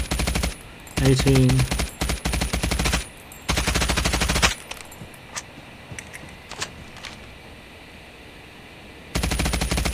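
Bursts of automatic fire from a RUS-79U submachine gun in a video game, several rapid strings of shots separated by pauses, loud and close, with a voice briefly counting over the gunfire.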